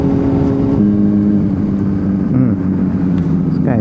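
Honda CBR600RR sport motorcycle engine, heard close and loud from the rider's seat, a steady high drone that shifts pitch as it revs and changes gear, ending with a quick rising rev.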